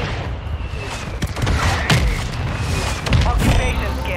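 Artillery fire mission in Warzone 2: a rolling barrage of heavy booms and blasts crashes in layered waves, dense and loud, with explosions overlapping one another across the whole stretch.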